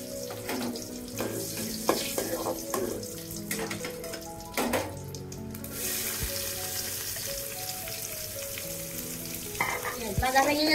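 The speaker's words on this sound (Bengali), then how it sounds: "আমি প্রথমে তেজপাতা দিয়ে দিচ্ছি, চিকেন জিরা দিয়ে দিচ্ছি, সামান্য পেঁয়াজ কুচি দিয়ে দিচ্ছি" Bay leaf, cumin and chopped onion frying in oil, a soft sizzle with frequent stirring clinks and utensil knocks close by, fairly quiet, with a brief burst of louder crackle partway through.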